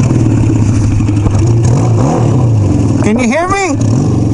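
A Royal Enfield motorcycle engine drones steadily while riding, a low continuous rumble that runs throughout under a person talking.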